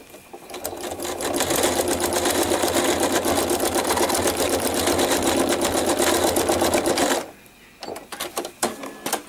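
Sewing machine stitching over painted fabric, a fast rattling run of needle strokes that rises and holds steady for several seconds, then stops and gives way to a few slow, separate stitches.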